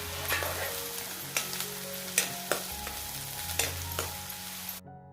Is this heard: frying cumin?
yes